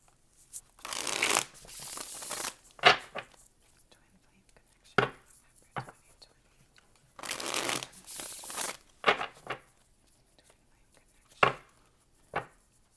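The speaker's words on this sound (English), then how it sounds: "This will be our last shuffle." A deck of tarot cards is shuffled in several quick, crisp riffling bursts, each a second or two long, with short soft taps and pauses between them, close to the mic in a quiet room.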